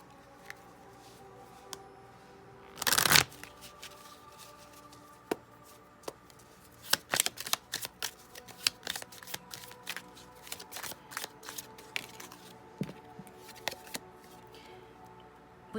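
A deck of tea leaf oracle cards is shuffled close by in a quiet room. One loud riffle comes first, then a run of softer, irregular card flicks and taps.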